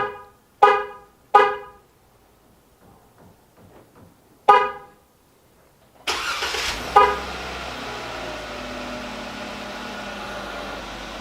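Three sharp horn honks from a 2007-2018 Jeep Wrangler answer a remote-start command, then after a pause the engine cranks and catches into a steady idle, all heard close by with no talking.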